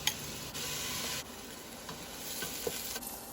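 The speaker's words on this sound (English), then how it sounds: "So now we adding a little bit of olive oil to the pot so that we can saute our onions." Onions sautéing in olive oil in a pot, a steady soft sizzle with scraping stirs, a louder hiss in the opening stretch settling into a quieter crackle, heard close with no talking.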